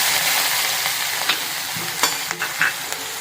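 Ginger-chili paste hits hot oil with cumin seeds and asafoetida, giving a bright, steady sizzle with a few sharp pops and spoon clicks as it is stirred.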